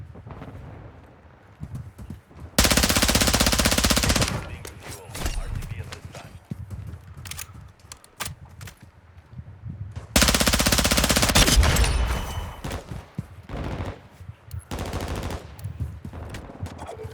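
Video game gunfire: two long, loud automatic bursts and several shorter volleys of rapid shots, with a player talking between and over them.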